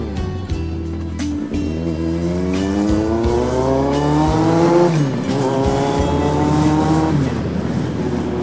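A Z car's engine revving and rising through the gears, loud and close, with tire squeal and a steady roar that climbs, drops and climbs again; no talking.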